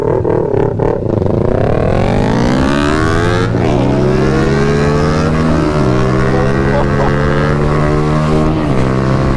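A loud Kawasaki Ninja 400 motorcycle engine revs up and down repeatedly, its pitch rising and falling close by.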